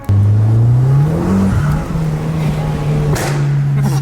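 A 3100 hp car engine revs loudly and close, a steady deep drone rising in pitch early on, with a brief sharp burst near the end as it spits flames.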